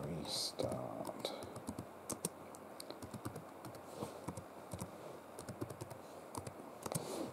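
Fingers type on a computer keyboard in a steady run of close, crisp key clicks, with a few faint bits of speech in the room.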